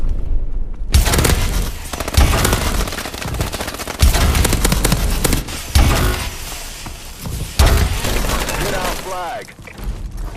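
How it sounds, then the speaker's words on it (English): Laser weapon firing in Call of Duty: Advanced Warfare, sustained loud bursts of rapid automatic fire with heavy impacts and mechanical clatter, close and dense, with faint voices underneath. "I want to show you guys this clip of the laser in action."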